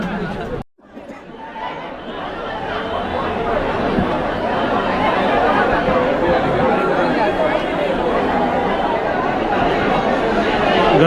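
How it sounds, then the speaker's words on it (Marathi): Dense crowd chatter at the Lalbaug Raja festival in Mumbai, a continuous, loud hubbub of many voices among food stalls after a brief dip at the start, with occasional laughter mixed in. "गर्दी बघा गर्दी"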